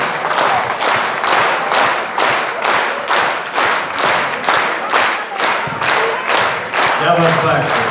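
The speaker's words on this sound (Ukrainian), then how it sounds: "Оплески вам." A concert hall audience at an anniversary show applauds soldiers with loud, rhythmic clapping that settles into a steady beat. A voice joins near the end.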